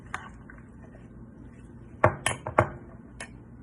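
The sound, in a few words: mixing ceviche ingredients in a bowl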